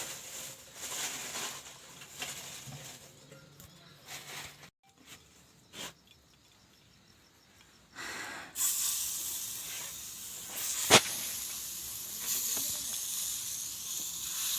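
Rice flour and jaggery fritters dropped into hot oil, at first with quieter scattered frying, then a loud sustained hiss and sizzle that swells from about the midpoint, with one sharp crackle.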